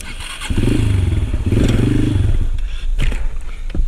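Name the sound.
motorcycle braking hard, engine stalling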